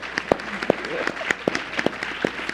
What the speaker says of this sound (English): just give her a round of applause for being amazing